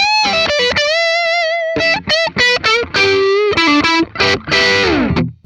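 Gibson Angus Young SG Standard prototype electric guitar from 2000, played through its neck pickup with heavy distortion: loud, full, slightly muddy single-note and double-stop licks with sustained bends and quick staccato bursts, heard alone.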